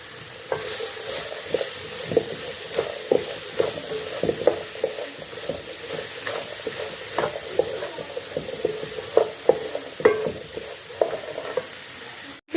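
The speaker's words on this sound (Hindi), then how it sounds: "अब इसमें हम भिंडी डाल लेंगे और भिंडी को हम फ्राई कर लेंगे इसमें" Okra hisses and sizzles in a frying pan while a spoon scrapes and stirs in regular knocks, up close and fairly soft, with no talk.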